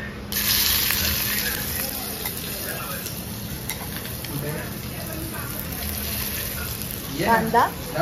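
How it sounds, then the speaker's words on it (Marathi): Chopped onion goes into a pan of hot oil on a slow flame as valachi khichadi is cooked, giving a steady low sizzle with stirring and scraping throughout and a brief rattle near the end. "आता ह्याच्यात आपण टाकू कांदा."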